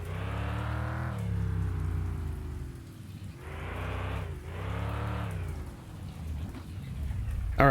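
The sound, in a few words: rain falling in video game Mon Bazou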